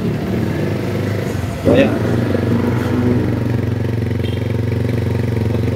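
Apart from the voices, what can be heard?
Rusi motorcycle engine being started and revved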